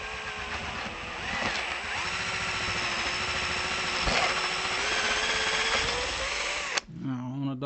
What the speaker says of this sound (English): I'm drilling a hole through a guitar